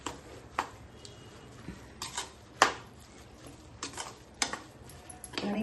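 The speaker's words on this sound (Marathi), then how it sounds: "आणि थोडं ढवळून घेते।" Carrot halwa with added milk cream being stirred in a pan, a spoon scraping and clinking against the metal in irregular bursts with quiet pauses between strokes.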